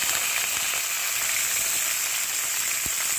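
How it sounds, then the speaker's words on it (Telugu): Green chillies and chopped onion frying in a pan make a steady, dense hiss that runs for the whole stretch without a break, loud and close, with no voices over it. "ఇప్పుడు ఈ టైంలో నేను పచ్చిమిరపకాయలును ఉల్లిపాయలు వేసేసుకుంటున్నాను."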